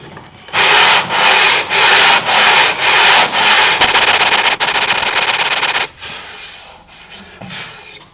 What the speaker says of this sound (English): now I'm going to use just this flexible sanding strip to refine the edge